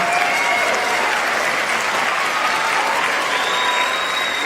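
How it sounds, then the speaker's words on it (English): Loud, dense crowd clapping rings out at a junior high spring concert for a kids' mariachi group, holding steady throughout with faint cheering mixed in. "let's give them another round of applause for this awesome group of kids."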